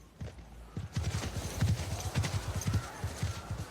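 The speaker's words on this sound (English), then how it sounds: "Horses." Horses gallop in a scene from The Last of Us TV series, their hoofbeats a fast, steady clip-clop that runs close and loud throughout.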